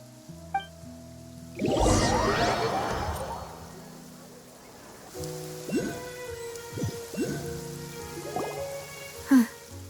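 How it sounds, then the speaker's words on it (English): Rain falls in a Genshin Impact scene as a soft, broad hiss that swells for a few seconds, then fades under quiet tonal game sounds and brief voices. "It's been raining non-stop for a few days now."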